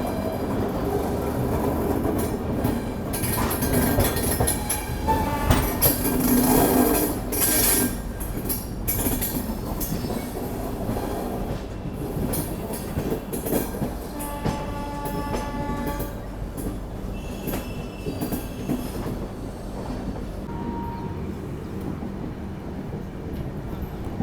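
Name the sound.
Poorva Express train running on rails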